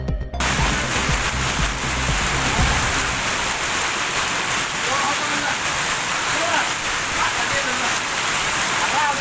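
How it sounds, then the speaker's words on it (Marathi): Torrential cloudburst-like downpour over the streets of Murud town in Latur, a dense, steady roar of heavy rain with water pouring across flooded roads, loud and continuous throughout with a brief low rumble at the start. "मुरुड शहरात तुफान पाऊस चालू असून संपूर्ण रस्ते नाल्या जलमय झाल्याचं पाहायला मिळत आहे"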